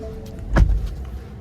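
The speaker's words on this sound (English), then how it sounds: "And I love how the doors close too." A door on a 2023 Ford F150 Lightning XLT electric pickup shuts once with a single solid, muffled thump, close by and alone with no talk.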